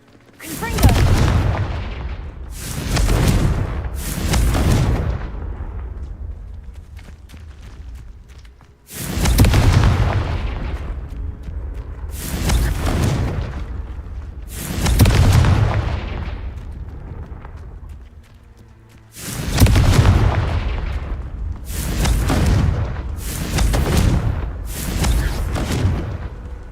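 Blasting-spell explosions from the video game Hogwarts Legacy boom repeatedly in loud, heavy bursts, several in quick clusters separated by brief lulls, with a voice casting spells among them.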